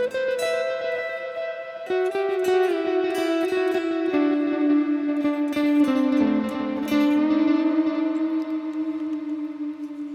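An electric guitar plays a slow melodic line through delay and reverb effects in Guitar Rig 6 software, its sustained notes trailing echoing repeats and a lingering wash with no voices.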